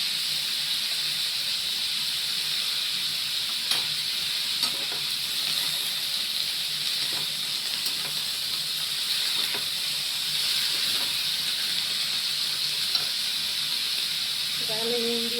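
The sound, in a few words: green chilli and chilli paste frying in pan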